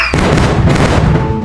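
A loud, booming cannon blast from a Peppa Pig parody cartoon, one heavy report that hits hard at the start and rumbles on without a break.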